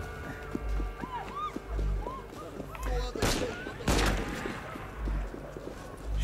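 Gunshots from Assassin's Creed Unity crack out in a few sharp bursts over a busy background of game sounds and clopping footsteps.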